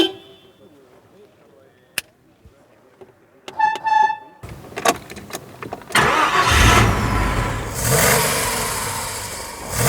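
A vintage Mercedes-Benz S-Class from the start of the line cranks after some clicks and quiet handling sounds. The engine catches and settles into a loud, strong idle, then revs up close by.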